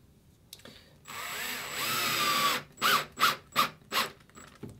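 Power drill driving screws into wooden dory boat frames, a close, quiet burst of whirring followed by four short revving pulses, with no talk.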